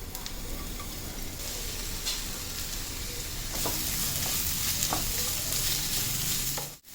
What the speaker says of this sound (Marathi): आता कांदा घालते. तेल तापलेलं आहे.